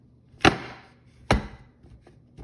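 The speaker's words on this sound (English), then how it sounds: "we're going to take this pastry and cut in the butter." Butter is cut into a flour, sugar and cinnamon mixture for a peach crisp pastry, giving two distinct sharp chopping knocks close by, then a few fainter taps.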